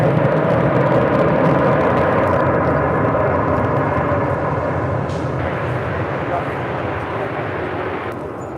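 A United Airlines Boeing 787-9 Dreamliner arriving at LAX, its jet engines a loud broad roar that eases slowly as it passes, with a voice talking over it.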